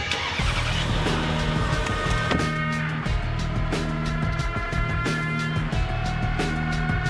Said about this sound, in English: must steadily reverse the first car down without it slipping